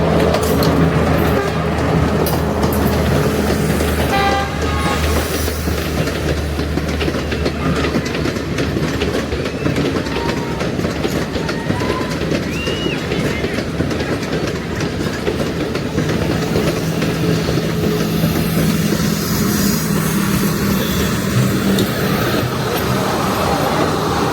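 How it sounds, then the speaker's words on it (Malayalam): A train rumbles across the Nine Arches Bridge near Ella, Sri Lanka, with steady clickety-clack of wheels on rails, loud and close throughout, a low heavy roll continuing without pause. "നയനായിരം ബ്രിഡ്ജിൽ കൂടെ ട്രെയിൻ വരുന്നത്"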